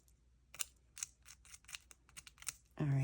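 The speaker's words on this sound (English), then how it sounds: "Scissors are probably not the best thing to use here." Scissors snip through material during a craft pocket-making project, with about a dozen short, crisp cuts in an uneven rhythm, close and moderately loud, and a brief louder sound at the very end.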